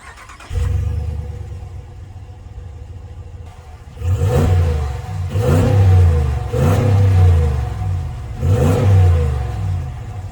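A deep 5.7-liter V8 engine in a 2021 RAM 1500 Limited pickup idles, then roars through four strong revs in quick succession, loud and close, with rumbling exhaust between each burst.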